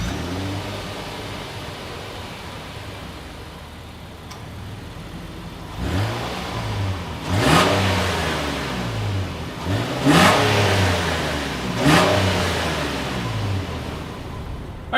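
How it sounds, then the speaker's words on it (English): A 2022 Nissan Pathfinder idles quietly before its exhaust rises in several sharp revs, each surging up and falling back in separate bursts, fairly close and without any talk. "As always, here is that exhaust clip."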